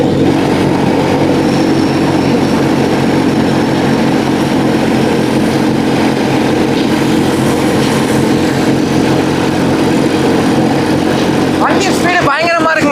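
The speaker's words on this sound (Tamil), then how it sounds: "இன்னும் நான் ஃபுல் த்ராட்டில் கொடுக்கவும் இல்லை. அவ்வளோதான், கிளம்பிடுச்சு வண்டி." Homemade paramotor with engine and propeller running hard during takeoff, a steady loud droning roar that holds throughout, with a brief burst of wind buffeting near the end.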